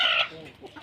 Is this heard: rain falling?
no